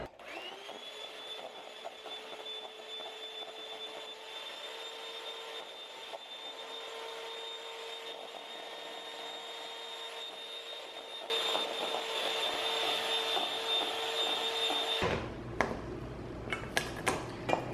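An electric mixer beats aquafaba for vegan dark chocolate chip cookies with a loud, steady motor whine that holds for many seconds, grows louder near the end, then cuts off into a few clattering knocks.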